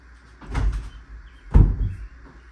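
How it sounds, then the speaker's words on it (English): An office door being closed, two dull thumping knocks and rattles about a second apart, close and fairly loud in a quiet room. "I'm going to close my office door."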